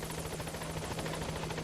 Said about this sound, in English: Is that an enemy helicopter?